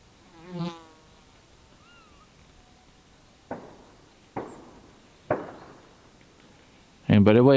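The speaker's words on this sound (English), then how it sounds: "those are gunshots that you hear. There are people out hunting" Three sharp, distant gunshots from people out hunting rabbits crack at roughly one-second intervals across quiet outdoor air, after an earlier whistle-like sound and before a louder noise at the end.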